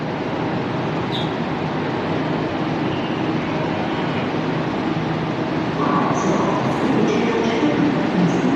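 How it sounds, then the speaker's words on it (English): A sleeper train pulls away on its way to Beijing, giving a steady low rumble and rolling rail noise throughout, moderately loud with faint higher squeaks. "That train is leaving."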